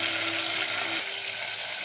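Mutton pieces dropped into a pan of fried ginger-garlic paste for gongura mutton curry give a steady, close, loud sizzle with a brief low hum that cuts out partway through.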